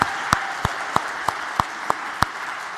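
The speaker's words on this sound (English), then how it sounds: "just one round of applause for everyone who's helped out this semester" A lecture-hall crowd gives a round of applause, heard as a soft, steady wash with a regular series of sharp, evenly spaced claps rising above it.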